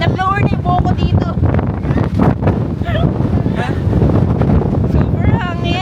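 Strong wind buffets the microphone outdoors in cold weather in Busan, Korea, a steady roar that runs under constant talking for the whole stretch.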